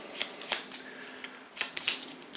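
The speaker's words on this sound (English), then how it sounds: "But we'll just give that a bit of a shuffle" A small deck of Arkham Horror game cards gets shuffled, with quiet crisp papery riffles and taps clustered in two short flurries, close and faint.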